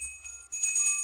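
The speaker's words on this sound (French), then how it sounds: "Je trouve juste que le son de cette cloche est un peu bizarre." A single bell rings with an oddly pure, high, sustained tone that hangs in the air, quiet and unaccompanied.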